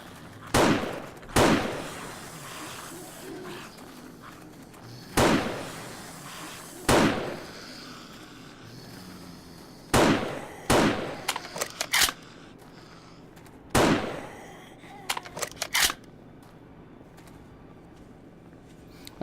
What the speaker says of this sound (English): I really like that sniper rifle.